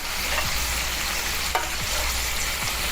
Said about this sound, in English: So now we're basting our steaks with butter as if it needed it, right?